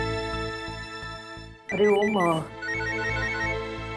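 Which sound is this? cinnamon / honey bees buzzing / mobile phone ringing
mobile phone ringing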